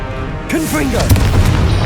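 A blasting spell going off in the Hogwarts Legacy video game, a sudden boom with a bright crackling burst followed by rumbling impact noise, loud and close, layered under game music and voices.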